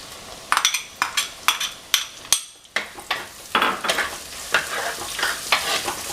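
Crushed garlic and onions sauté in a pan for a Kerala duck pepper roast, with a spatula scraping and clinking in a quick, steady rhythm over a constant close sizzle.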